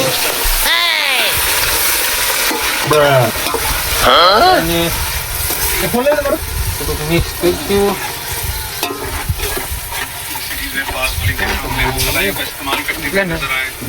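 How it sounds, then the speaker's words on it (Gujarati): Onions sizzle in hot oil in a pan at an outdoor farm cookout for a paneer dish, with steady frying hiss and repeated stirring scrapes, while people talk over the cooking. "ડુંગળું છેલ્લા નાખતો આપણે તેલ સૂકવું પડે ત્યાં સુધી આપણે એને સડવા દઈશું."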